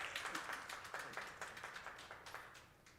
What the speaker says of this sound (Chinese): 掌声好像不够热烈。